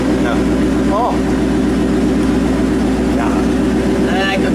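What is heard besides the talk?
1934 Ford pickup engine with exhaust cutout opened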